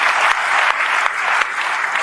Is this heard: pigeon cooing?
no